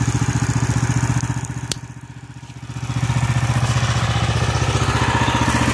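A go-kart with a stock 420cc Predator engine runs loud and close with a steady, throbbing pulse. The throttle drops briefly to a softer level, then the engine returns to its full chugging beat.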